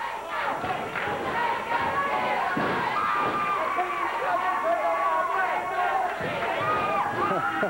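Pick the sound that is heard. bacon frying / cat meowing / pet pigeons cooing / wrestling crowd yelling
wrestling crowd yelling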